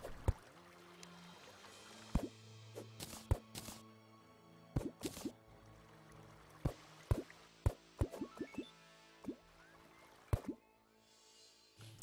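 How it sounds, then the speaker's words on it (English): Water being dumped in the Terraria video game: a series of sparse, sharp splashy plops and drips over faint tonal game music, no voices. "I need to dump all of that water."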